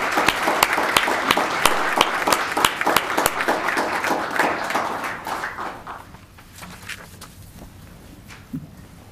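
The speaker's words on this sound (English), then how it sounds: "Another round of applause for our just average teenager." Applause from a town council meeting audience in Los Gatos, many hands clapping loudly at first, then thinning out and fading to scattered claps by the end.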